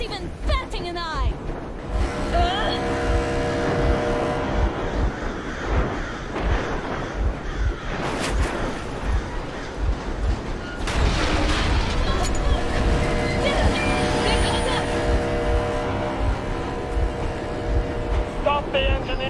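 A vehicle engine in a Metro video game scene in the ruins of the Moscow Metro rumbles and clanks steadily, loud and close, with heavy rail-like rattling under overlapping spoken dialogue.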